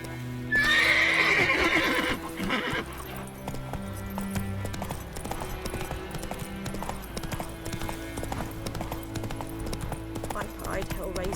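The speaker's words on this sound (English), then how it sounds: "Run, Roach." A horse in The Witcher 3: Wild Hunt gives a loud close whinny, then its hooves clip-clop in a steady galloping rhythm beneath game music and ambience.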